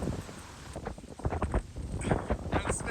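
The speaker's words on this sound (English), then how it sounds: "but it is frighteningly windy" Strong wind at a cyclocross race in Cabras, Sardinia buffets the microphone in heavy, uneven gusts, roaring and rumbling with brief lulls between blasts.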